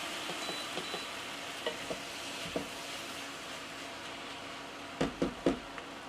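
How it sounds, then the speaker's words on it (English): Homemade sausage dressing gets a quick stir in a pan on the stove, with a soft steady sizzle underneath and scattered light scraping taps, a cluster of louder clacks near the end. "quick stir"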